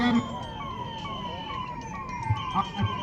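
An ambulance siren wails at an emergency mock drill for an oil leak, a steady rising and falling tone at moderate distance with faint background clatter and no talking.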